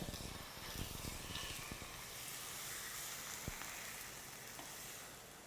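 Beef frying in a pan gives a steady, soft sizzle and hiss throughout, with a few scraping clicks near the start as the meat is loosened.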